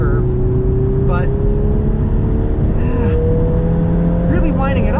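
VW Golf R Mk 7.5 hot hatch engine wound up hard from low to high revs, a steady rising drone heard from inside the car, continuous and fairly loud with a few faint vocal sounds over it.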